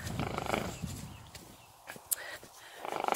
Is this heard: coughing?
no